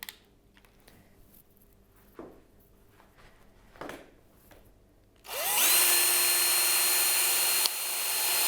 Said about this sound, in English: And start drilling up the top